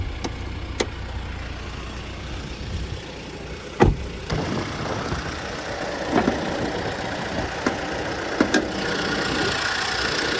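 A Mitsubishi Triton GL 4x4's 4N16 2.4-liter turbodiesel idles under an open hood with a steady rumble, broken by several sharp clicks and knocks, with no talking.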